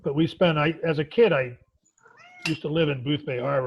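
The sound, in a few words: cat meowing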